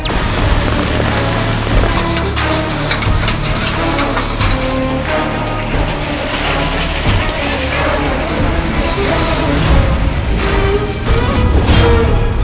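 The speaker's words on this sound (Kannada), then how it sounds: "ಎಲ್ಲ ಕಡೆಯೂ ಆಲಿಕಲ್ಲಿನ ಮಳೆಯಾಗಿದ್ದು ಅಕಾಲಿಕ ಮಳೆ ಆಗಿರೋದ್ರಿಂದಲೇ ಈ ರೀತಿ ಕಲ್ಲಿನ ಮಳೆ ಆಗಿದೆ" Heavy, unseasonal hailstorm rain in Hubballi, Karnataka, a loud, dense, continuous drumming roar with scattered sharp impacts that holds steady throughout.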